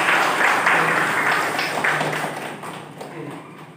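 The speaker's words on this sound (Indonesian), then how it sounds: "Tepuk tangan dulu buat Rizka." A class of students claps in a classroom, a burst of applause that starts full and tapers off over a few seconds, with some talking underneath.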